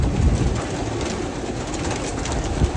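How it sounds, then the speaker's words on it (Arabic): Pigeons at a large farm of about a thousand pairs of local and hybrid breeds, a dense, loud bed of cooing and wing rustle filling the air close by, with no one speaking. "والحمام ورانا اهو اهو"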